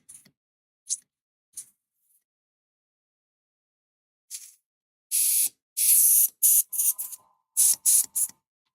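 An airbrush gives a few faint, short puffs, then a run of louder, sharp hissing bursts of spray, close and alone.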